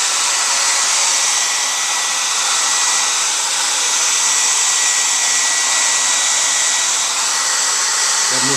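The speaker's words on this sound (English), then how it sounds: "You blow dry it a little bit." A hair dryer blows steadily on freshly applied Carrara coarse two-tone Venetian plaster, giving a loud, continuous airy roar that holds unbroken from start to finish with no talk.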